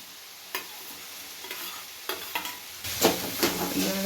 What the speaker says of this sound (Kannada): ಇದನ್ನು ಚೆನ್ನಾಗಿ ಫ್ರೈ ಮಾಡೋಣ. ಹಸಿಮೆಣ್ಸಿಕಾಯಿ ಹಾಕೊತಾ ಇದ್ದೀನಿ, ಈರುಳ್ಳಿ ಹಾಕೊತಾ ಇದ್ದೀನಿ